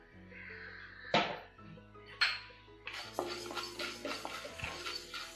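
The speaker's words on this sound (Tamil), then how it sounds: "இப்போ வெந்தயம் ஆட் பண்ண போறோம்." Fenugreek seeds go into a metal pan for dry roasting, giving two sharp clinks of utensil on pan followed by a dense run of scraping and stirring, close and fairly loud, with no talking.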